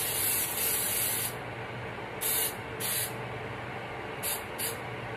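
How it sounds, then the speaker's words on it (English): Several short hissing bursts of aerosol baking spray into a cake pan, close and steady, separated by brief pauses. "So I'm going to spray my pan."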